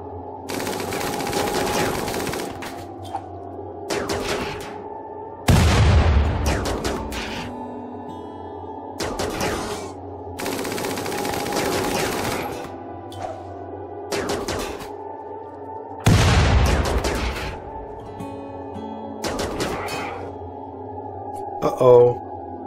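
Repeated bursts of automatic gunfire in a RimWorld battle against mechanoids, sharp loud volleys separated by short pauses over a steady humming game background, with a voice talking between some bursts.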